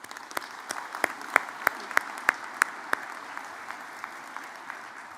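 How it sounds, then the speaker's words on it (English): At a college convocation, a graduation audience applauds at a moderate distance, soft clapping underneath with a few sharp, louder claps standing out in a loose rhythm before fading. "Let's give them a round of applause."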